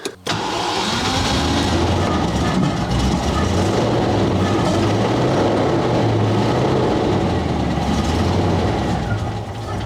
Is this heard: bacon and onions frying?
no